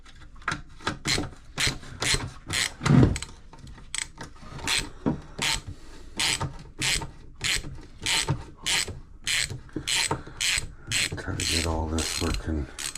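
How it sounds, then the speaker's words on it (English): A hand ratchet clicks in repeated short bursts while unbolting the fender bracket on a bicycle. The rhythmic strokes are close and clear, with a brief scrape partway through. "I'm just going to unbolt this bracket."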